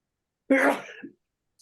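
A single abrupt sneeze-like burst from a person in a yoga class, loud and close, lasting about half a second with a short trailing exhale, then silence.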